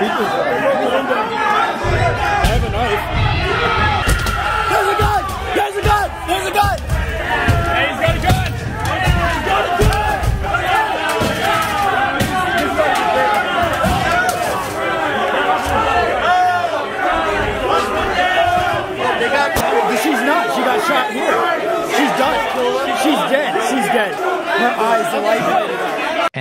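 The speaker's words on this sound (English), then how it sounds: "you hear the crowd smashing the building's windows and the police shooting a right-wing rioter" Rioters at the US Capitol create a loud, continuous crowd roar of shouting and chanting, with scattered sharp bangs and knocks like windows being smashed throughout.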